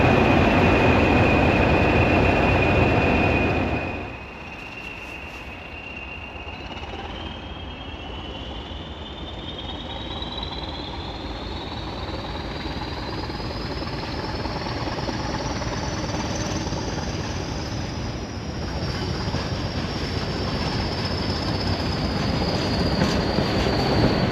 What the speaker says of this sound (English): You can see the two Class 20s are running around to the other side of the train.